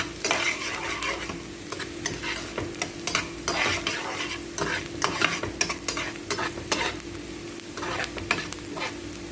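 Leftover chicken is stirred in a frying pan, a spatula scraping and clacking in uneven strokes over a steady close sizzle, with no talking.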